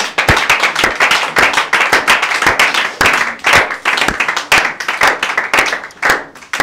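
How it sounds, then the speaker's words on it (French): Church congregation clapping together in acclamation, a loud, dense, continuous patter of many hands with an uneven pulsing rhythm, close and sustained throughout. "Nous acclamons la parole de Dieu."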